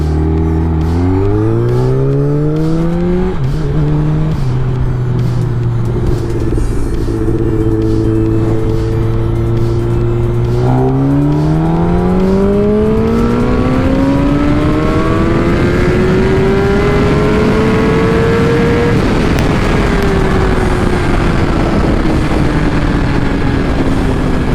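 Kawasaki ZX10R motorcycle fitted with velocity stacks making a third-gear acceleration pull: a loud, close engine wail climbing steadily in pitch through the gear, briefly dipping, then rising again before easing off.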